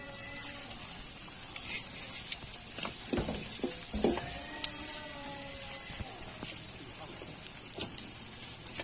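Steady crackling sizzle of chicken frying in deep hot oil in a pan, close and continuous, with a few clinks and bursts of louder spattering partway through.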